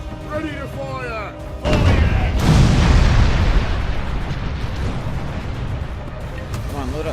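Heavy ship cannons fire in a naval battle in the video game Furious Seas: one loud booming blast, then a long rumbling roar that stays heavy to the end, with a voice heard briefly before the blast.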